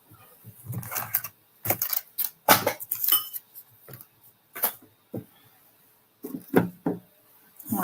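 Scissors cutting through fabric for a sewing lining, a series of short crisp snips and rustles in irregular bursts with pauses between, close and fairly quiet, with no talking.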